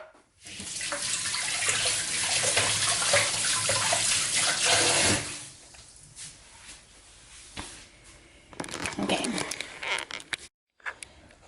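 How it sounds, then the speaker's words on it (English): Hands are washed under a running tap, a steady broad rush of water for about five seconds, then quieter splashes and rinsing bursts before the flow stops, with no talking. "let me go and wash my hands"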